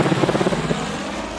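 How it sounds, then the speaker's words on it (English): A sleek black helicopter lifting off above a wall near a gate in a tabletop RPG scene, its rotor blades chopping in a steady rapid pulse at moderate distance, alone without talk. "You hear in the distance the chopping of rotor blades, and you see a sleek black helicopter start to rise above the wall near the gate"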